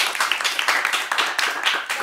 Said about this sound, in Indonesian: Mau tepuk tangan dulu, boleh?